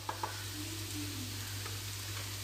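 Chicken momo filling being stirred as it fries in a pan gives a quiet, steady sizzle with a couple of sharp utensil taps at the start, fairly faint over a constant low hum, no voices.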